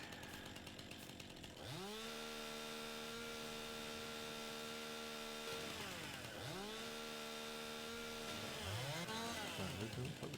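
A chainsaw working on a tree on a farm, its engine revving up into a sustained high whine, dropping briefly, then revving again loud and close, with a third rise at the end; no one speaks.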